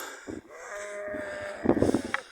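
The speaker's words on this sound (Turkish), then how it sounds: "Bunlar da geç doğan kuzularımız." Late-born lambs bleating on a farm, a few wavering calls rising over low barnyard noise, with a louder, busier burst of bleats near the end.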